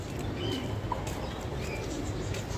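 Racer pigeons in a loft giving soft, low cooing under a constant hum of background noise, with faint chirps here and there.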